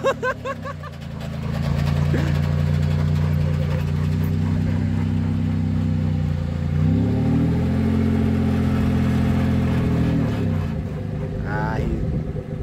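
A hot rod car engine rumbles steadily and loud at close range, then revs up as the car pulls away, the pitch climbing briefly before settling again, with voices heard over it.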